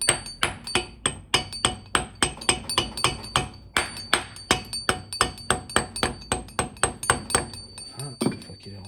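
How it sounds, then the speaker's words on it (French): A hammer tapping a part into a SISMO connecting rod, a long run of sharp metallic taps at a steady, fairly quick rhythm, close and loud, with no talking. "Un petit coup de marteau de l'autre côté pour le faire entrer."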